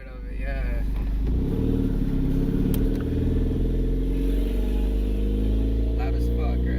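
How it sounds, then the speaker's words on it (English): Boosted Honda Civic with an eBay turbo heard from inside the cabin: a steady, loud engine drone under acceleration, with faint turbo whine over the top and people talking throughout. "Is that the noise of the turbo? I mean, you could hear a little bit of it"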